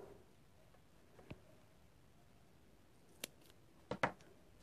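Scissors snip double-sided tape at an angle, a few quiet crisp cuts close by: a single snip, another a couple of seconds later, then a quick double snip at the end, against a quiet room.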